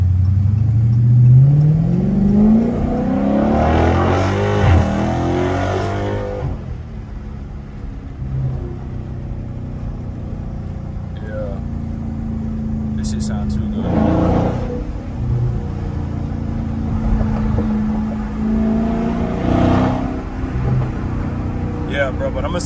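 Dodge Charger Daytona Scat Pack revving and accelerating, a loud rumbling engine that rises and swells in several bursts while someone talks over it inside the car.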